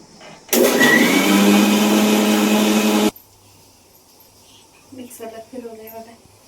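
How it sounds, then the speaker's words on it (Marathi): A mixer grinder whirs loudly for about two and a half seconds while blending mango juice, then cuts off abruptly, leaving a quiet room where someone speaks briefly. "मिक्सरला आता घेते फिरवून"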